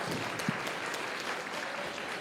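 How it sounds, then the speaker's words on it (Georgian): Audience in a concert hall applauding, a sustained, fairly faint wash of clapping that holds evenly throughout with a few sharper claps near the start. "აპლოდისმენტები თუ შეიძლება, გავახუროთ დარბაზი."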